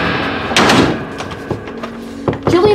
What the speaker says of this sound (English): why'd you lock the door?